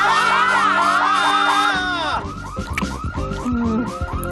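A cartoon home security alarm going off, loud rising and falling siren wails that blare continuously, then switch to a choppier, pulsing alarm pattern with shouting voices and clatter mixed in.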